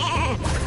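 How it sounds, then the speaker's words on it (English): A sheep bleats once in the Skylanders card game, a short wavering cry over a low game tone, loud and close, lasting well under a second. "Sheep."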